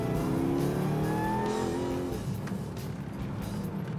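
Supercharger blower whine from a GT Falcon-era car revving in a workshop, a steady engine drone with rising whine tones, loud and close, no talking.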